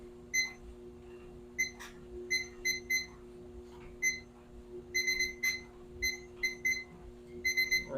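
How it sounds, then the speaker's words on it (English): Workout timer on a guided walking session beeps in short electronic bursts, single and paired tones repeating irregularly over a steady background hum, fairly faint and without voices. "Well, I think my timer is not working too good here."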